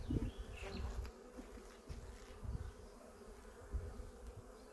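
Honey bees buzz around an opened garden beehive during a mid-April honey super placement, a dense, continuous hum close by with a few louder passes of individual bees.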